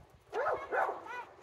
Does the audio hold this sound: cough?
no